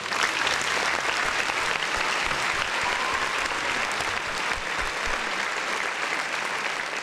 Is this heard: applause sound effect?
yes